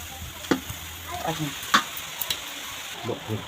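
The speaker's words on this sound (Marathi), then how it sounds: "आता ही कढईमध्ये टाकून शिजवून घ्यायची आहे। मीठ टाकून" Safflower greens cook with salt in a wok, a quiet sizzle under scattered clinks and stirring taps, fairly close and sparse in rhythm.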